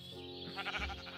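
A sheep bleats in Minecraft with the TerraFirmaCraft mod: one close, wavering bleat lasting about a second over steady in-game background sound.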